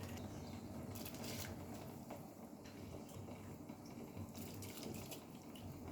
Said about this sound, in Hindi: अब पानी में हम चावल को डाल देंगे।